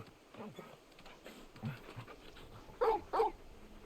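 A big dog in Final Fantasy XVI pants softly over a quiet game background, with two louder, breathy huffs near the end.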